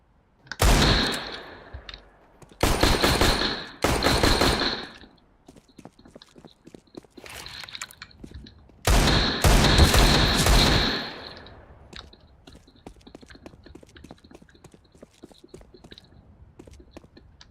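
Desert Eagle pistol fired in a video game, several loud clustered bursts of heavy shots with gaps between them, followed by a long stretch of faint clicks and ticks, with no speech.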